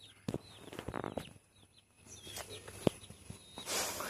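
A backyard hen clucks in short soft bursts with a few sharper calls, fairly near but quiet, with faint rustling and footsteps between the clucks.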